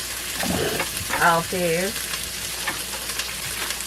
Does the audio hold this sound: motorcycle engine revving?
no